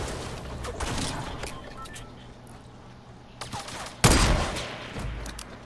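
Gunfire in Fortnite: scattered shots crackle over a noisy game backdrop, with one loud, sharp blast near the middle followed by a few more rapid shots.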